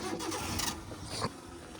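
A car engine cranks repeatedly while trying to restart after stalling in first gear, a steady churning turnover close by with a brief surge near the end.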